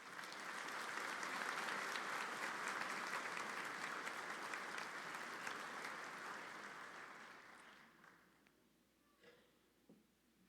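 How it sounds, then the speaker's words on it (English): A commencement ceremony audience breaks into sustained applause, a dense, loud wash of many hands that holds for several seconds and then tapers off, leaving a few scattered claps near the end. "Please give him a round of applause."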